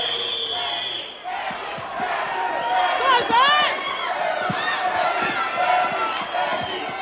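Arena crowd at an American Gladiators event, a broad roar of cheering and shouting that swells and holds throughout, with a voice calling out over the din.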